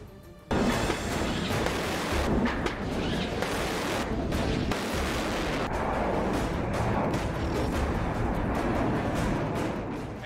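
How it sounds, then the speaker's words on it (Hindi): Continuous heavy artillery bombardment attributed to S-300 strikes in the war in Ukraine, a dense, loud roar of booms and crashing blasts that begins abruptly and rumbles on without pause, with no voices. "S-300 से ऐसी बमबारी 24 घंटे और 7 दिन हो रही है।"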